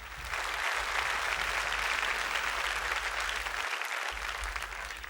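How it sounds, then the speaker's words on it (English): Applause from the audience at the Ducati Panigale V4 launch premiere, a dense continuous wash of clapping that holds steady for several seconds with no voices over it. "A big round of applause to our gold suppliers."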